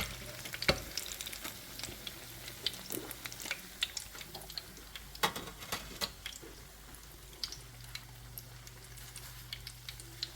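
Apple fritters frying in hot grease, a steady close sizzle with scattered pops and crackles running throughout, alone without talk.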